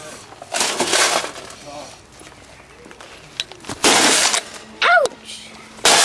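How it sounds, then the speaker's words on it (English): A toaster oven is smashed at a smash party, with heavy crunching blows and glass breaking in loud bursts, along with scattered rattles. People talk and call out in between. "Ooh, a toaster oven to smash now. Beat it to death."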